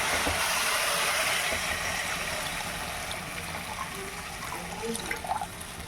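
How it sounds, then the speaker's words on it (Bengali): Water is poured into cooked, oil-releasing spice paste for a rohu fish curry, a loud continuous splashing gush that fades slightly, then gives way to faint bubbling. "দেখুন আমার মশলা কষানো হয়ে গেছে মশলা থেকে তেল ছেড়ে দিয়েছে আমি এবার এর মধ্যে জল দিয়ে দেবো"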